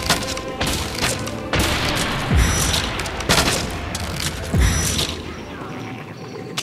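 Gunfire in the video game Dragon's Dogma Online, a dense barrage of shots and heavy booming thumps with mechanical clatter, loud and continuous with periodic stronger bursts across the whole stretch.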